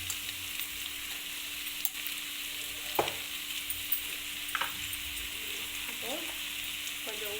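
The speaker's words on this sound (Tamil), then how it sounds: "நல்லா உருளைக்கிழங்கு வதங்கிட்டு இருக்கு." Diced potatoes with turmeric sizzle quietly in a pan, a low steady fry with a few sharp scrapes and stirring clinks of a spoon, no voice over it.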